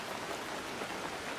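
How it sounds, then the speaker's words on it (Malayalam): Heavy monsoon rain pouring down, a dense, even roar of drops that stays steady and fills the whole moment with no voices. "നല്ല മഴ"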